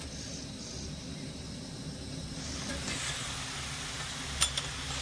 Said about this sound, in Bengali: সবগুলো মিষ্টি আমি তেলের মধ্যে ছেড়ে দিয়েছি